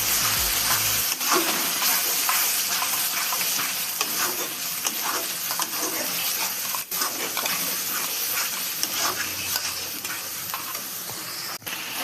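Ginger garlic paste and onions fry in hot oil with a loud, dense, crackling sizzle that runs without pause, broken by occasional spatula scrapes and clinks.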